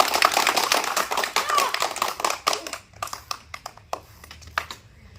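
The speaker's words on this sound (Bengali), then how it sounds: "একটা হাততালি হয়ে যাক" Hands clapping in a village to cheer a small child riding a bicycle in a cycling challenge; dense clapping at first, thinning out into scattered individual claps.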